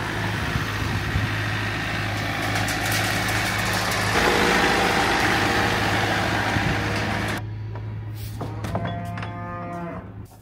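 A tractor engine idles steadily on a farm, a low constant drone under loud cattle mooing, then the drone continues more quietly in the final seconds.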